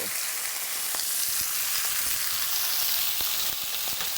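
Thin slices of beef steak searing in a hot pan, a loud, continuous close-up sizzle and hiss with occasional crackling pops, no speech over it.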